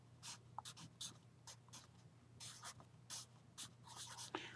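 A pen or marker writes a math proportion on a board or paper in short, faint scratchy strokes, several separate bursts with pauses between them, with no voice over them.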